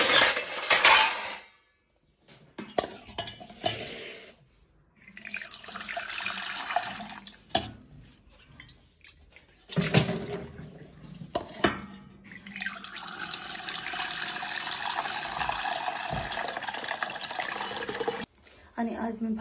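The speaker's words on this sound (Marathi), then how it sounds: "रात्रीचे भांडे लावायचेत मला अजून" Dishes being washed under a running kitchen tap at night, with bursts of flowing water and clinking pots and utensils that start and stop between quieter gaps.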